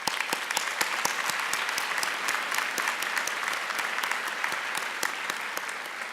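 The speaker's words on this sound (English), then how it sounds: "Let's just give them a round of applause." Applause from a large audience at a medical school commencement ceremony, steady dense clapping with a few sharp nearby claps standing out, moderately loud and continuous throughout.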